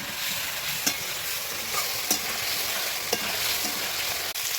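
Ground spice paste stir-fried with potato pieces in a pan for a rohu fish curry, a steady close hiss with a few sharp spatula knocks against the pan, no voices.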